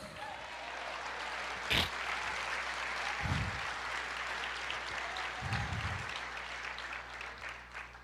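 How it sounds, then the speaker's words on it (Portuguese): Church congregation applauding during a sermon, a steady broad wash of clapping that holds for the whole stretch with a couple of brief louder bumps, no talk over it. "Aplauda o Senhor"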